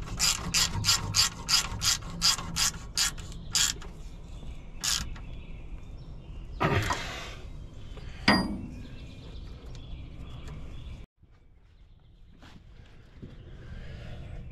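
A ratchet tightens bolts while an alternator goes onto a Bomag BW213 compactor: a rapid run of crisp, close clicks at first, then scattered metallic clanks and knocks, with quieter shop background afterward.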